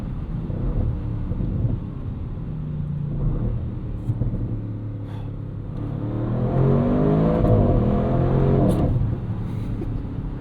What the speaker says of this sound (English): It will hold gears and bounce off the rev limiter.